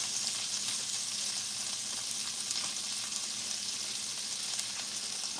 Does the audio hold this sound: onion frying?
yes